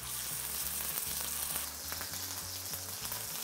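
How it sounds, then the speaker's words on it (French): Beef steak sears in a frying pan with a steady, close sizzle. Strong low hum and clicking persist throughout, and no one speaks. "cuire la tranche de bœuf dans une poêle"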